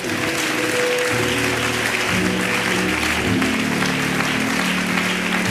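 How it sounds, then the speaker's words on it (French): A church congregation claps loudly and continuously, dense applause filling the room for several seconds with no speech over it. "Nous acclamons correctement le roi"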